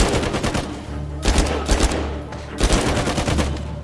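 Loud bursts of rapid automatic gunfire in Uncharted 4 come in several close volleys separated by brief pauses, layered over game sound.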